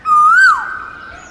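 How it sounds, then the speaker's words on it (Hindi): A single clear, rising whistled call of an Asian koel rings out loudly, sliding upward before breaking off, with a faint tail fading after it. "ये तो कोयल की आवाज है"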